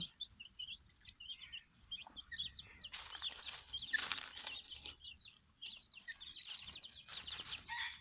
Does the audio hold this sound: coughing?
no